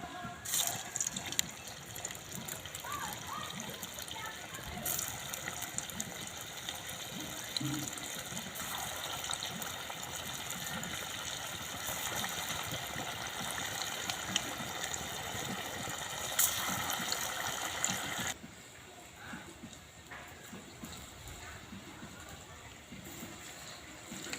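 Soybean pakoras dropped one by one into hot oil in a kadai, a continuous bubbling, hissing fry that runs steadily before dropping off near the end, with a voice speaking over it.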